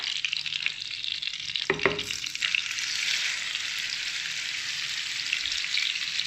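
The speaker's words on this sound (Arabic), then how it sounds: "انا حطيت الزبده وشويه ديال زيت العود نقلاهم ما كيذوبوا باش نزيد عليهم هاد الخبات" Butter and a little oil frying in a pan, melting down before filling ingredients go in for fish-stuffed briouats; a steady close sizzle runs throughout, with a brief clatter of stirring near the start.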